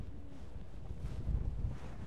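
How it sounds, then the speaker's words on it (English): Outdoors in Shimoda, Japan, wind buffets the microphone in a low, continuous rumble with a couple of stronger gusts near the end. No voices are heard. "It's quite windy today as well."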